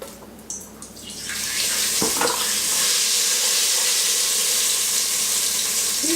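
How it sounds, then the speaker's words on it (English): Potatoes dropped into hot oil in a home kitchen, a loud, steady broadband sizzle building after the first second and holding strong and continuous to the end. "And I'm going to go ahead and add about half of the load of the potatoes. I got the oil hot"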